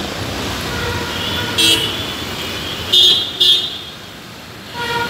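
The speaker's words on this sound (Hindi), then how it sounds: "बेंगलोर का ट्रैफिक देखो तुम, ये देखो बेंगलोर का ट्रैफिक" Road traffic in Bangalore with a constant engine rumble and several car horns honking: one short toot, then two more close together and a final one, heard mostly without talk.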